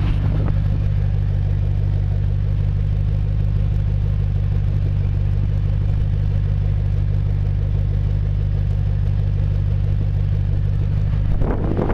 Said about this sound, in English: we'll go back and listen to the exhaust.